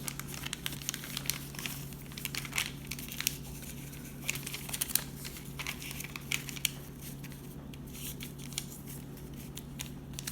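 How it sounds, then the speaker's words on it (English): Paper sides being folded toward the middle while shaping paper pots, heard as a continuous soft crinkling and rustling with small crisp crackles, close and quiet over a low steady hum, with no one speaking. "now we're going to take these sides and fold them towards the middle"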